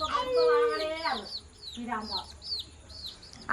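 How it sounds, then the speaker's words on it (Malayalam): Young chickens kept indoors at home give a run of short, high peeps, several quick chirps spaced across the second half, fairly close and moderately loud, after a person talks over the opening moments. "കോഴിക്കുട്ടികളൊക്കെ ഇവിടെ വെച്ചിക്കണ്."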